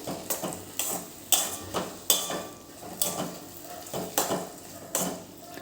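Green aodo, a mash of green eggplant with sugar and fresh coriander, stirred in a pan: a spoon scrapes and clinks against the metal in a steady rhythm of about a dozen strokes, close and moderately loud, with no voices.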